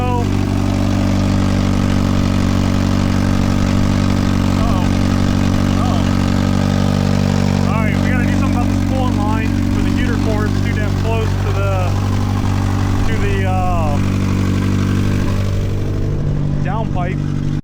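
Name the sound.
Mazda Miata engine idling at about 1200 RPM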